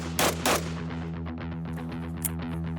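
Two sharp firearm shots crack out at an outdoor shooting range, followed by a fainter third report over a steady low hum of background noise.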